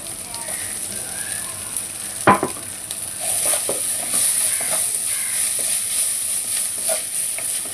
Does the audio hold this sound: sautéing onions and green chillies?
yes